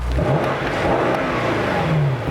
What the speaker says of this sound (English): if you turn the exhaust off, this is what it sounds like. So it's mostly all engine.